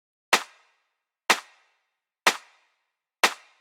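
A single centre-panned clap drum sample in a music production, struck four times at an even one-per-second pace, each a sharp, bright crack with a short decaying tail, alone against silence.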